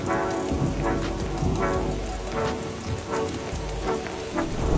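Steady rain drumming on a surface, read as drops striking a bag that changes colour when wet, heard as a dense continuous patter with soft rhythmic swells, close and fairly loud, no voices.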